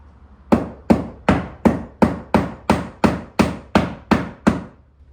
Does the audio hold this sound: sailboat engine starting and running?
no